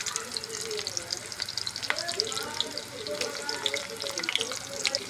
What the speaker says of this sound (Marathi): त्याच तेलामध्ये मी आता कांदा फ्राय करून घेते.